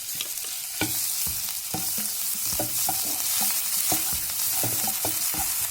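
Crushed ginger, garlic and green chilli frying in a pan for rajma masala, a steady loud sizzle punctuated by repeated scraping stirs of a spoon, close and without voices.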